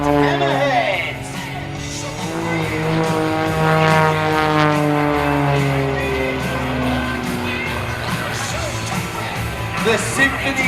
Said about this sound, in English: The symphony of Lycoming is what you hear now.